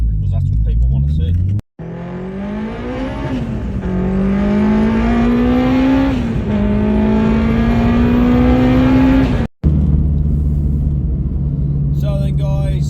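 A turbocharged Honda Civic pulls away with its engine climbing through the revs in long rising sweeps, broken by quick gear changes. The engine stays loud and close throughout, with a brief drop near the end.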